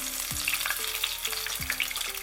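Fish sizzles steadily in hot oil, frying for a restaurant-style fish molly. The hiss is continuous, dense and close, with faint background tones and no talk.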